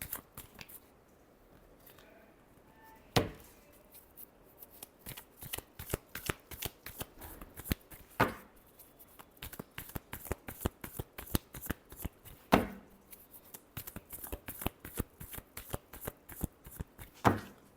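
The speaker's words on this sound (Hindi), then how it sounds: "Last shuffle." Tarot cards are shuffled in a rapid riffling, flapping rhythm, close and crisp, with a few louder snaps at intervals as the deck is squared, all heard alone without voices.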